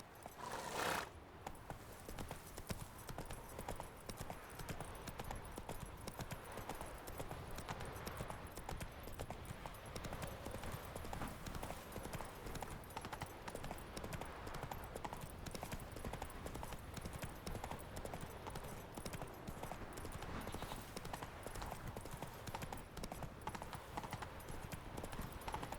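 Horse hooves clip-clop in a steady, rapid rhythm as a mount rides in the video game The Witcher 3, continuous and moderately close for the whole stretch, with no talking.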